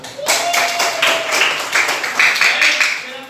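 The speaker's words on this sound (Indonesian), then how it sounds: "Tepuk tangan." Students in a classroom applauding a presenting group, a short burst of quick, fairly loud hand claps from many people, close and with a few voices mixed in.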